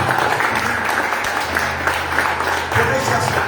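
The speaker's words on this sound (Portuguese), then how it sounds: "Se não tem, então aplauda o nome de Jesus Cristo." A church congregation applauds together, a steady wash of clapping with some crowd noise and a low hum underneath, sustained throughout.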